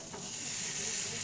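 Peanuts frying in hot oil in a home kitchen, a steady close hiss and faint crackle that holds evenly throughout, with no voices.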